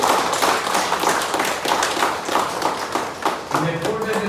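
Audience at a gathering clapping hands, a continuous scatter of sharp claps of moderate loudness with some talk over it.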